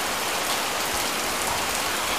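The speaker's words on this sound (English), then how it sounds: "It's constant rain." Constant heavy rain during major flooding in Trinityville, St Thomas, a dense, unbroken hiss of downpour hitting surfaces, loud and close with no voices.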